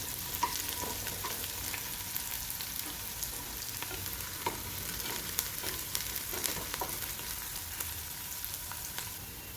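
Onion fries in a pan, a quiet, even sizzle with light stirring clicks scattered throughout.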